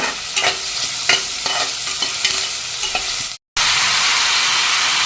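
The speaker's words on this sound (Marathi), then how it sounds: "त्यानंतर तमालपत्र आहेत आणि हे दालचिनीचे तुकडे आहेत ते सुद्धा चांगले परतून घ्यायचे" Bay leaves and cinnamon pieces fry in a pan for mutton curry, crackling and sizzling close up with sharp stirring clicks, a brief silent break, then a loud continuous sizzle.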